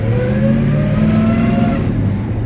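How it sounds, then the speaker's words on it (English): A 1971 Chevelle SS 454's four-speed transmission whines as it winds up, a rising mechanical tone over a loud, steady engine roar close by, no voices. "Hear that transmission wind up."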